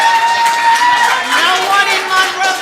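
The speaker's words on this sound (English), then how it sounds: "I'm trying to talk, but the crowd's too loud" Loud crowd noise fills a planning board meeting room, a steady wash of many overlapping voices with scattered shouts and some clapping, continuous and close throughout.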